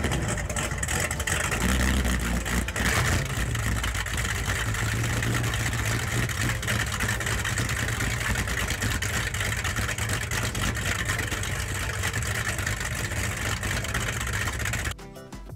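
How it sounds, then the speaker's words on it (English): Mercury Racing 700 boat engines fire up at a Key West poker run, producing a loud, continuous throaty roar and revving that holds steady before cutting off abruptly at the end. "One more fire up, guys, because I know you want to hear these Mercury Racing 700s."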